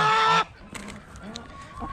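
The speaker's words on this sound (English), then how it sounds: "Look, chickens." A loud burst of chicken clucking at the start, then quieter scattered clucks and soft background noise.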